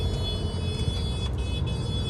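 Busy Delhi road traffic, a dense rumble of car engines passing close by with a few faint horn toots and no talking.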